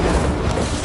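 A fire spell cast in the video game Hogwarts Legacy gives a loud, dense whooshing blast that roars steadily for just under a second with no break.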